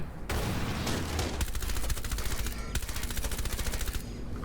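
Sustained automatic gunfire from a gun in Rainbow Six Siege, loud and close, with a few pauses between long rapid bursts.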